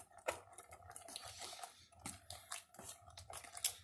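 Salsa of onions, tomato and lime juice stirred in a bowl, giving soft wet squishes and light scrapes and clinks of utensil against the dish, close and steady with no talking.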